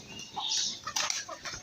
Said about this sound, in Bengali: এখানে মুরগিও দেখতে পাচ্ছি।